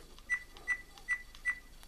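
An Akaso V50 action camera gives four short, evenly spaced electronic beeps as its buttons are pressed, close and clear against quiet background hiss.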